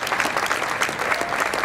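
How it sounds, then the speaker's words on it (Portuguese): Applause from the audience at a fado performance in Ponta Delgada, a steady dense clatter of many hands clapping close by, with no voices over it. "um grande salva de palmas para Jorge Veríssimo."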